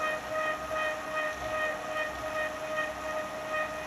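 A bike trainer drivetrain in the big ring above 80 RPM gives a steady raspy, rattling mechanical whir with a constant high whine, droning without pause at moderate volume.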